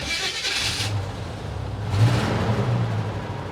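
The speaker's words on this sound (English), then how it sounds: "Sounds like it's got an exhaust leak" An old 1983 Chevy van engine runs with a rough, rumbling idle and a brief rev, its low exhaust sputtering unevenly up close from an exhaust leak.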